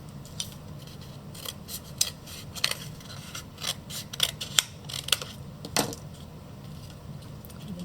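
Scissors snipping through a paper cup, a run of short crisp cuts and rasping rubs at close range, fairly quiet with no voices.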